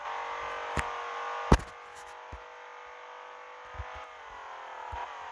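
A car engine in the Assoluto Racing video game, a BMW M5 or Mercedes C63 lapping the Nürburgring, holds a steady sustained drone with a slight pitch drop near the end, punctuated by a few sharp clicks and thumps.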